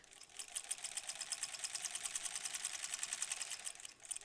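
A sewing machine runs a steady, rapid stitching whir across a wool knit sweater being steeked, close and continuous for about four seconds before easing off, with no talk.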